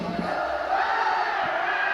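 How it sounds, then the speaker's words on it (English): A home crowd at a high school football game cheers in a sustained, roaring wash of voices, steady and fairly loud throughout. "The home crowd is really behind them."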